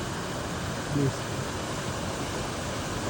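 A waterfall among flowers gives a steady, even rushing roar throughout, with a brief faint voice breaking through once.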